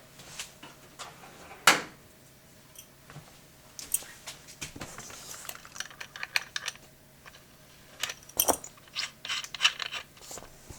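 Threaded tip being unscrewed from an S-993A desoldering gun during repair, giving scattered close clicks, scrapes and small metallic handling noises spread irregularly over several seconds.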